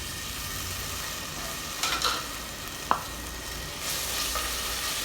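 Garlic frying in about half a cup of hot oil in a pan, a steady close sizzle with brief scraping stirs from a wooden spoon and one sharp clack, no talking.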